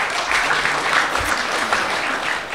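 An audience at a comedy show in Latvia claps steadily in a dense, loud burst of applause that keeps going throughout.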